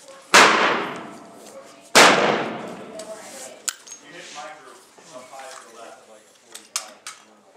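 A 12 gauge shotgun fitted with a chamber adapter firing 9mm rounds fires two sharp, close shots a second and a half apart. Light metallic clinks and handling noises follow while people talk.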